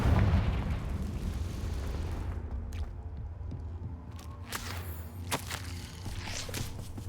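The Confringo fire spell detonates in Hogwarts Legacy with a heavy, booming blast at the start, then settles into rumbling debris and scattered sharp crackles.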